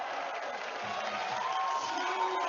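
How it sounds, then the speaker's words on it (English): A large crowd at a high diving event cheers and roars, a broad, sustained wash of voices that swells slightly and carries some distance away. "The crowd are really going wild here now."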